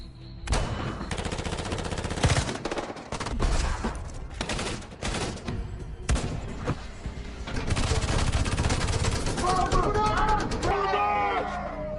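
Movie gunfire in an action scene with rebels: loud bursts of automatic weapons and single shots crack in rapid clusters, then give way to a busier stretch with shouting voices and a rising tonal cue in the background.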